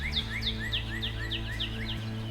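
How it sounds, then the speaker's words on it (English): A bird sings loudly outdoors, repeating quick bright chirps in a steady rapid rhythm over a constant low hum. "That bird is so loud."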